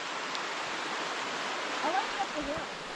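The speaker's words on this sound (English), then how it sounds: "look at this, with the falls coming down right here" Comers Creek Falls on the Iron Mountain trail pours steadily, a broad, even rush of falling water close by, with faint voices or birdlike chirps briefly poking through.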